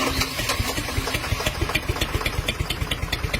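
A Mitsubishi Fighter 6M60 diesel truck engine idles with the wire pulled from injector number 1, a steady close clatter of fast, even knocking pulses running throughout.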